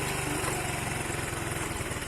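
A motorcycle engine running nearby, a steady rapid low chugging throb that stays loud and even throughout with no talk over it.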